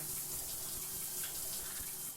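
Steady rushing water from a shower running in a Minecraft bathroom, a continuous hiss heard alone at close range.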